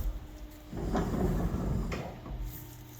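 Doors on a CNC machine slide shut, a rumbling rolling glide that runs for about a second, ending in a soft knock, with faint shop hum around it.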